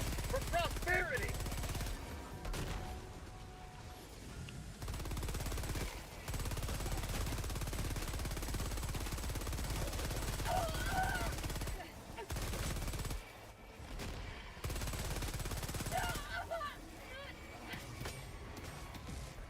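Helldivers 2 gameplay: sustained automatic gunfire, loud and dense, rattles through most of the stretch, with brief gaps between bursts and occasional voices over the shooting.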